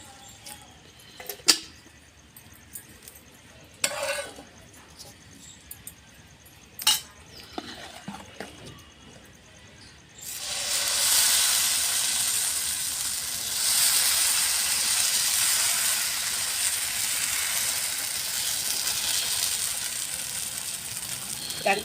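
Uttapam batter poured onto a hot pan starts a steady loud hiss and sizzle that lasts, with a few light clinks of utensils just before it begins.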